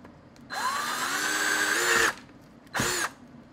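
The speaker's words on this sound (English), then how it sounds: "I'm going to start with a pilot hole, and on this one I'm going to drill it just kind of over here in the corner" A power drill bores a pilot hole into the plastic case of a Casio SK-1 toy synthesizer: a close, rising whir lasting about a second and a half, then a second short burst after a brief pause, with no talking.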